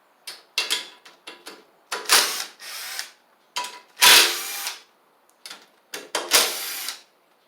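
A 3/8 ratchet clicks in quick bursts of strokes while loosening valve cover bolts on a Troy-Bilt Pony lawn tractor engine, close and crisp with short pauses between each run of clicks.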